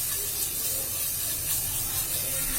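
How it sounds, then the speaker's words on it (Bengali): Chopped garlic sizzling in hot oil for a pizza sauce, a steady close hiss and spatter that holds at an even level throughout. "তেলের মধ্যে আমি রসুনটা দিয়ে দিলাম, রসুন কুচি।"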